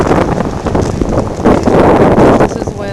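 Strong wind gusts buffeting a microphone outdoors at a candlelit vigil in Arnold's Cove, Newfoundland, rising and falling in loud surges while voices speak underneath.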